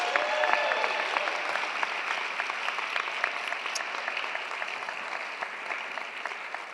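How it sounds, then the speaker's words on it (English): Sustained applause from a large commencement audience, steady dense clapping that carries on evenly throughout with no voices over it. "Give another round of applause for all of our outstanding projects."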